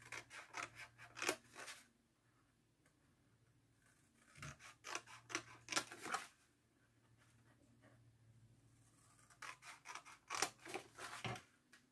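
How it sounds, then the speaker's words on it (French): Scissors snip through folded paper while making a small Easter paper basket, coming in three bursts of quick close cuts separated by quiet pauses. "nous allons couper sur le bas, de là où nous avons la plus grande partie, ici, tous les plis."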